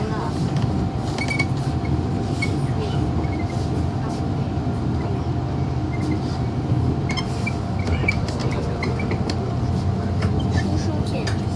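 An MTR Disneyland Resort line M-train runs between Sunny Bay and Disneyland Resort stations, heard from inside as a steady, moderate rumble with a faint constant hum and occasional light rattles and creaks.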